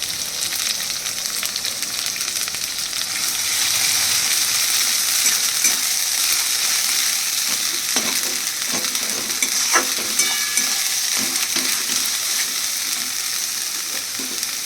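Fried onions being stirred in a hot pan for a gourd-leaf mash, a continuous close sizzle that swells after a few seconds, with repeated scraping strokes of a spatula in the second half.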